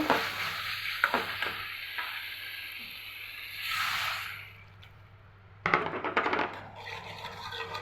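Spice paste for a taki fish and taro curry cooking in a pan with water added, heard as intermittent stirring clinks and scrapes with a hissing sizzle that swells, fades, then bursts back loudly.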